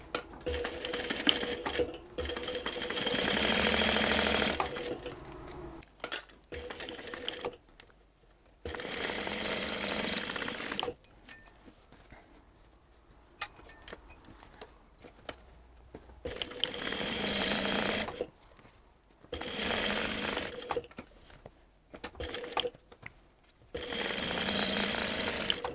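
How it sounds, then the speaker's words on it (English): Sewing machine stitching the side seams of a fabric lining for a switch case, running in several loud, steady bursts of a few seconds each, separated by pauses while the fabric is repositioned. "Put them right sides together, sew down either edge"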